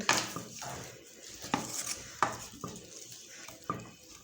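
A spoon stirs a wild-leaf vegetable dish with mung dal and coarsely ground peanut powder in a pan. It makes quiet scraping and a few distinct metal clinks spaced about a second apart, close but faint, with no talking.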